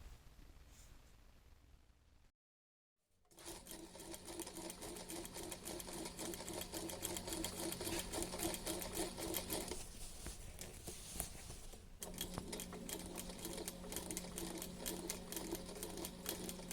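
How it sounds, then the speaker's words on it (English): A sewing machine stitches along a dress slit in a fast, even mechanical rattle, close and loud, starting after a brief pause and running steadily with one short break in the middle. "I'm gonna sew right beside from one side and other side."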